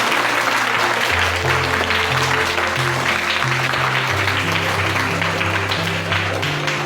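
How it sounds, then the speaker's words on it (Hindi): School audience giving loud, sustained applause, dense continuous clapping close up, with a low tonal hum or music running steadily underneath throughout. "जोरदार तालियां अपनी स्कूल के लिए बजा लीजिए"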